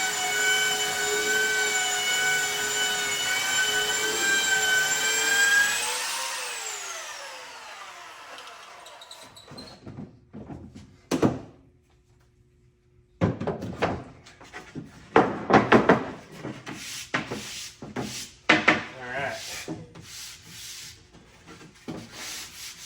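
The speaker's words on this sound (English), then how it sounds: "I'm gonna grab some 80 grit, some pretty aggressive grit sandpaper, and I'm gonna sand these down" Pieces of wood for a homemade spice rack are sanded by hand with coarse 80 grit sandpaper, in close, uneven bursts of scratchy rubbing that follow a fading mechanical whine.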